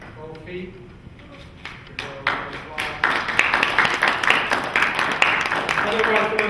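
Audience at a live Healthy Living TV show event claps for Brother Osiris, the sparse claps at first swelling into steady, fairly close applause that runs to the end.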